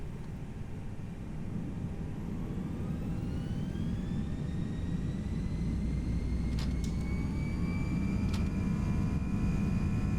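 Jet engines of a Toliss Airbus A321 in the X-Plane 11 flight simulator spool up for takeoff, a steady broadband roar with rising whine tones that climb in pitch and grow louder throughout, alone without talk.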